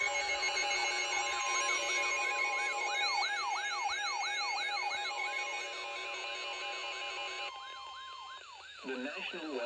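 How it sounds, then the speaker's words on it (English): An EAS emergency alert tone for a tornado warning, recorded from a TikTok, plays as a harsh two-tone warble with a rapidly oscillating siren-like sweep layered over it, fairly steady before shifting near the end. "I do have a little EAS recording on TikTok. I can even put a few seconds up here if I want to."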